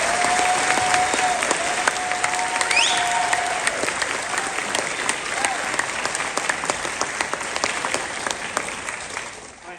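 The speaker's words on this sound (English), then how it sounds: "Let's give one more round of applause for these students." Audience applause fills a school auditorium for junior high band students at a spring concert, a steady, dense wash of many hands clapping for nearly ten seconds with a few brief tones over it.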